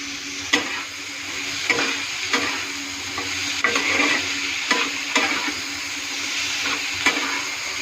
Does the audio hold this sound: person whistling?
no